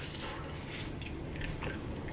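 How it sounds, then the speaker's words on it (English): Someone chews gum loudly and wetly close to the ear, with repeated smacking, squishy bites in a steady rhythm and no talking. "Who chews gum like that?"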